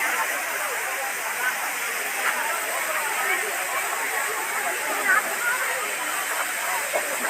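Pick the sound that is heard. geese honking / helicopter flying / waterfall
waterfall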